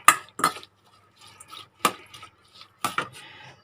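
Metal utensils clink and scrape against a bowl while a Thai spicy squid and shrimp salad with lemongrass is tossed, in sharp separate clatters with short quiet gaps between them.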